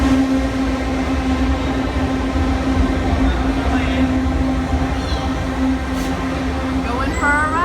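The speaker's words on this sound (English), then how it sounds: "Going for a ride on the subway." Riding aboard a subway train in Italy: a loud, steady rumble of wheels and motor with a constant hum, faint rail squeals near the end, and some voices beneath the noise.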